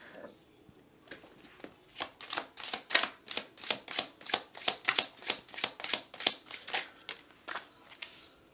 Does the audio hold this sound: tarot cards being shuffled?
yes